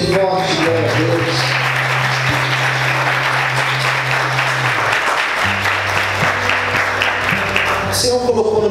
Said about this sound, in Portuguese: Aplauda Jesus, bem forte, glória a Deus.